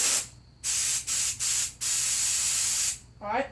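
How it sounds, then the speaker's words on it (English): Carb cleaner sprayed in several loud hissing bursts to blow out the carburetor of a Toro lawn mower, a long continuous blast in the middle, then a brief voice at the end. "we're just going to blow it out with some carb cleaner"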